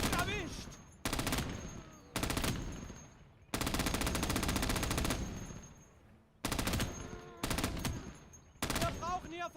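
Long bursts of machine gun fire in the WWII game Gates of Hell, loud and close, coming in several separate bursts with short gaps between them and one long sustained stream in the middle.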